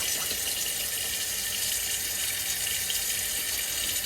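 Cold town water runs steadily through the tap line of an offroad caravan, a constant close hiss and rush of flow with no pauses.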